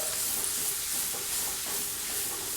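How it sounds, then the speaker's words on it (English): Onions sizzle in melted butter in a pan for a meatloaf, giving a steady, close hiss of frying with faint stirring textures and no voices. "first step is to saute your onions in that butter that we cut up"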